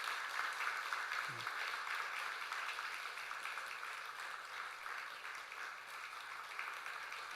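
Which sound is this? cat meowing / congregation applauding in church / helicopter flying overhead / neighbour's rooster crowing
congregation applauding in church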